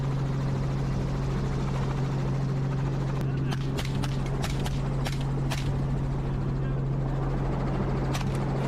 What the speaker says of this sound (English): hearing protection to guard against the helicopter's noise